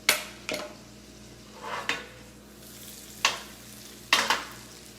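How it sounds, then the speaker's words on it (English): Banana halves caramelizing cut side down in a pan, a soft steady sizzle broken by a few sharp scrapes and clinks of a utensil against the pan. "We're gonna caramelize it 2 minutes on each side."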